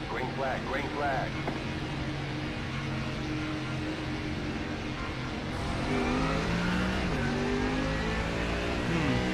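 GT3 race cars in a sim racing league game roar and accelerate together at a green-flag start, a dense continuous engine drone with rising revs that grows slightly louder, with people talking over it.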